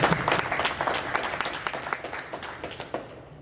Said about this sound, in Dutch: Dames en heren, uw applaus voor Walter.